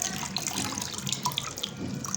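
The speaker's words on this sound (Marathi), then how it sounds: "ते पूर्ण असं थैलीतलं पाणी झरू देऊ" Water draining and trickling from a nylon bag of soaked wheat pulp, a steady close splashing patter with small drips, alone without talk.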